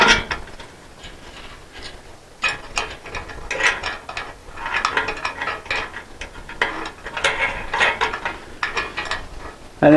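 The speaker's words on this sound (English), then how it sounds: "And then tighten them down with the nuts that they give you." Ratchet clicks in quick bursts as nuts are tightened onto U-bolts holding a rooftop solar panel mount, the bursts separated by short pauses. The sound is close and fairly crisp, with no talking.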